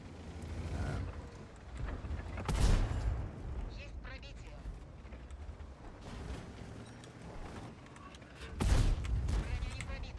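An SU-101 tank destroyer fires its heavy gun in the World of Tanks video game: two deep, booming blasts several seconds apart, with rumbling battle ambience and a voice talking in between.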